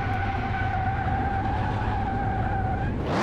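A car brakes hard and skids in the Car Mechanic Simulator game, a sustained tire screech with steady whining tones running over engine rumble for about three seconds, loud and close, with no talking.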